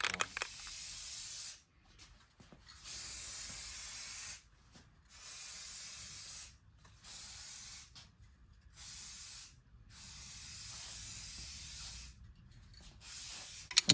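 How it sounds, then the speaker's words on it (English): An aerosol spray can applies primer to a cracked dashboard of a 1974 Pontiac Trans Am, giving repeated hissing bursts of a second or two each, separated by short silences, close and fairly quiet. "So I'll shake this and then start spraying and see how it looks."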